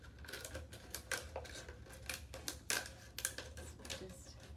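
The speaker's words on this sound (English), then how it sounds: "And just cut right up the bottle." Scissors snip a spiral into a plastic water bottle, giving quiet, irregular crisp clicks and crinkles close by.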